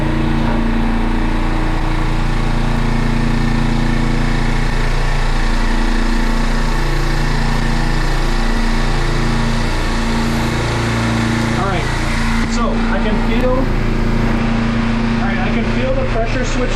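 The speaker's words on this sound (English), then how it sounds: "we can go ahead and turn off the compressor" An air compressor motor runs steadily with a loud, continuous hum and whine throughout, a fault with a leaking pressure switch being checked, with a person talking over the machine.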